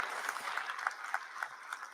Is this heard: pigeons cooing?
no